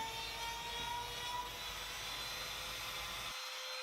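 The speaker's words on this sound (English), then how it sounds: "Putting 45 chamfer on around the inside there," A router cuts a 45-degree chamfer around the inside edge of a timber table-setting piece, a steady high whine with a broadband rush that drops away at the end.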